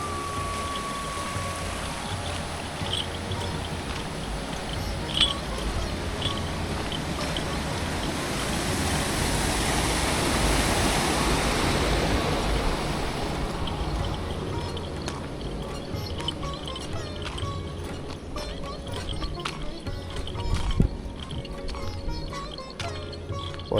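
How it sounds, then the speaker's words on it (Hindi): Fast-flowing river or canal water rushing beside a small bridge on the Narmada pilgrimage route, a steady broadband roar that swells in the middle and then eases, with scattered knocks and clatter. "अब साइड में नदी है या नहर है हम नहीं जानते, लेकिन काफ़ी तेज बहाव है पानी का।"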